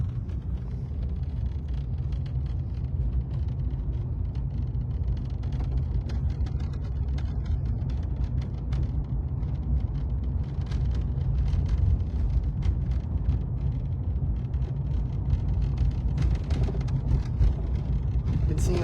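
Street traffic rumbles past as cars and a red truck pull up, a steady, moderately loud low roar of passing vehicles with shifting engine and tyre noise.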